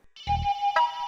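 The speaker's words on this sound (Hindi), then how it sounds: "सिड फोन चक ले, उठा ले फोन" A phone ringtone rings unanswered while its owner sleeps: a steady electronic tone with a bright melodic note, brief and fairly close, with a soft thump near the start.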